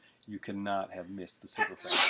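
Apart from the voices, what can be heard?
sneeze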